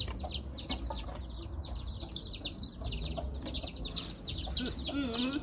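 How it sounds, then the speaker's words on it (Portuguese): Soft, rapid peeping from a chick mixes with clucks and chatter from chickens on a small farm, with faint voices in the background throughout. "Oh, o pintinho."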